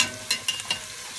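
Onions fry in a pan as pepper is stirred in, a steady close sizzle broken by three quick spoon scrapes in a short burst.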